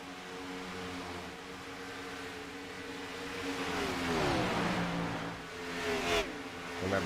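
Race car engines in a sim racing game at Kansas speedway, a dense overlapping drone of several cars with a rising and falling whine as one passes, steady and fairly loud, with no talk.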